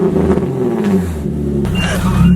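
A Nissan car engine revs loud and close, its exhaust altered with a cheap DIY hack, a steady throaty drone that swells toward the end with no talking over it.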